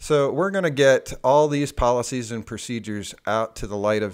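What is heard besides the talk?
None of the usual background noises is heard.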